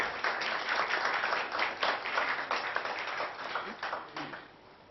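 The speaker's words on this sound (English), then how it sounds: "Dr. Durgadoss, can we have a huge round of applause for him" Audience at a book launch in Mumbai breaks into sustained applause, a dense, steady wash of many hands clapping throughout that slowly tapers toward the end.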